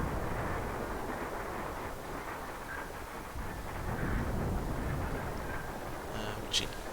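A burning car with a ruptured fuel tank in BeamNG.drive gives off a steady, dense roar of flames that holds for the whole stretch, swelling slightly midway, with a brief sharp crackle near the end.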